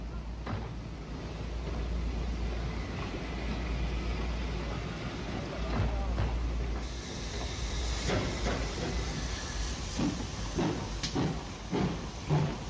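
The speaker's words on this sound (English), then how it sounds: "On a damp and grey December day, the train calls at Vachroo Station." A train calls at a station in Wales on a damp grey December day, a steady low rumble with hissing, clicks and occasional clanks of rolling stock, moderately near, without speech.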